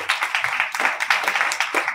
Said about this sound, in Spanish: Y le damos un fuerte aplauso para que nos acompañe aquí adelante.